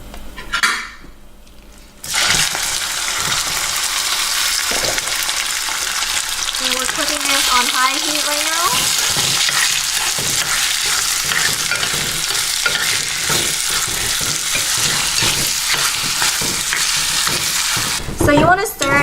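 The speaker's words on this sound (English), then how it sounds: "So after the pot is hot, I'm going to add in my pork belly." Pork belly sizzles loudly in a hot pot with olive oil, a dense steady frying hiss running throughout, with a utensil scraping and clinking against the pot as the meat is stirred.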